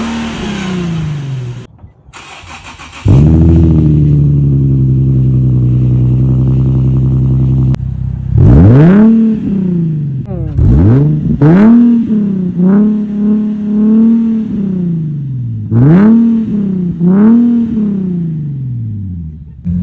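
An Infiniti G37 with an ISR exhaust idles with a low steady drone, then revs hard several times in quick rising blasts with a raspy, loud exhaust note, close by.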